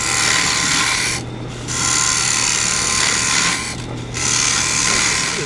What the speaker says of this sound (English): this round nose scraper got a good edge on it